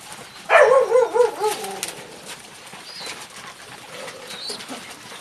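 Pet pigeons coo in a short run of low, wavering calls near the start, then the coop settles into quiet background rustle.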